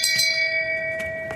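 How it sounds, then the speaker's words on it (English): A bell of shame rings out as a comic sound effect, a few clear metallic strikes with a long ringing tone that fades between hits, fairly soft and heard alone. "You, sir, get the bell of shame."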